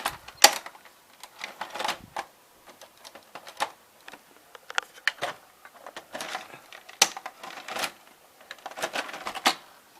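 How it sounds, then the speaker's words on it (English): Mitsubishi HS-U590 VCR with a broken tape spring, its mechanism struggling to accept a cassette: a rapid, irregular run of mechanical clicks, clacks and rattles, close and fairly loud with no voice. "this VCR doesn't like to accept tapes where the spring's broken on this, so you won't retract"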